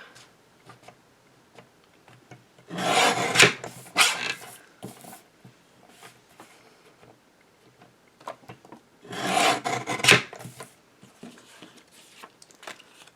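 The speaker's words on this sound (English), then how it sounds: "I'm going to need to trim off of the sides. I'll trim a little off each side." Paper trimmer slicing the sides off a piece of cardstock for a recycled Christmas card, two close rasping cutting strokes several seconds apart, with quiet small handling ticks between them.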